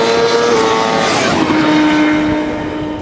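A 2017 Suzuki GSX-R1000R at speed on a racetrack near 180 mph, a loud sustained engine roar with a steady high whine and heavy wind rush over three seconds.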